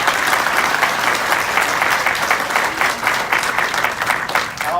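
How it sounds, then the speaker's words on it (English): An audience claps steadily for Delegate George McMath at a community groundbreaking ceremony on the Eastern Shore, a sustained dense round of applause that tapers slightly near the end. "let's give Delegate George McMath a round of applause"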